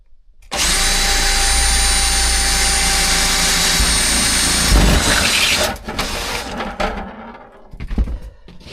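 Power drill boring a hole through a golf cart seat: a loud, steady high-pitched whine for about five seconds, then a rougher burst as it breaks through, followed by clunks and handling noises.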